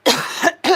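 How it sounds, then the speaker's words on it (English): Two quick coughs at close range, a longer hacking burst followed by a short sharp second one, loud and with no talk around them. "Sorry for coughing on the camera."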